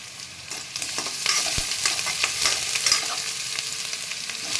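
Chopped ginger and green chilli sizzle in a hot pan while a chickpea and masoor dal dish is cooked, a steady close hiss broken by a few light scrapes and taps of stirring.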